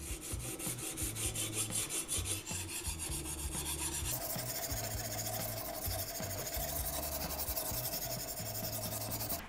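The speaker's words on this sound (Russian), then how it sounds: "Заточили с обоих сторон, переходим на следующий камень." Benchmade skinner hunting knife drawn across a sharpening stone, continuous close rhythmic rasping strokes going back and forth, with the scrape changing in tone partway through.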